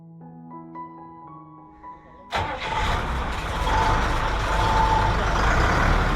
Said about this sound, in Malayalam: അങ്ങനെ ഡ്രൈവർ ബോട്ട് സ്റ്റാർട്ട് ചെയ്തിരിക്കുകയാണ്